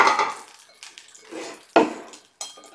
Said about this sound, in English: And then put the frying pan back on.